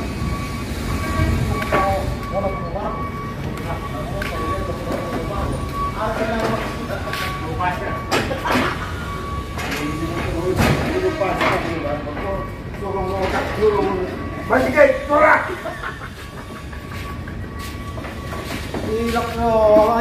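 A train rumbling steadily with metallic clatter and a faint squeal, while people talk nearby over the continuous noise.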